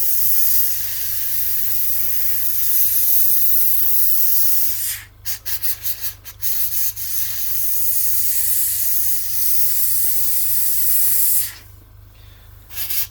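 An airbrush sprays a fine, steady hiss of acrylic paint onto a Bandai A-wing model, holding constant with a few short sputtering breaks midway and a cut-off near the end, alone and close.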